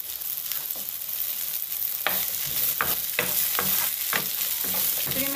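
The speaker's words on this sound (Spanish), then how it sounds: "acá estamos con el pimiento, le echamos un poco de aceite" Bell pepper pieces fry in oil in a pan, a continuous sizzle broken by several sharp scraping stirs, close and fairly quiet.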